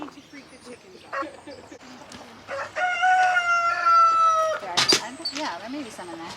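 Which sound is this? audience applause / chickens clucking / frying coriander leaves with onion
chickens clucking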